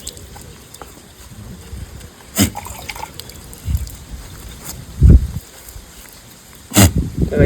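Water washing a goat's scabbed mouth wound from mouth disease, heard as soft, close trickling with a few brief louder splashes and dribbles at irregular moments.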